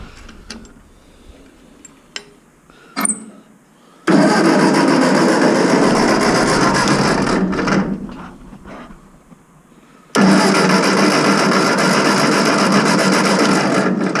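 A Ford 8N tractor engine is cranked twice by the starter in long, loud, steady whirring bursts after a few small clicks, with a quieter pause between the attempts and no clear catch.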